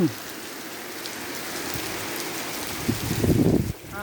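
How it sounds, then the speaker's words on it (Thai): Steady rain falls in a constant close wash of hiss and patter, with a louder, heavier burst near the end before it eases off slightly. "ฝนก็ไปก็มา"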